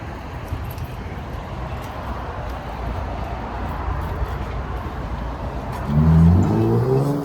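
Steady car traffic rumbles along a noisy road, a continuous broadband roar of passing vehicles with a deeper engine surge near the end.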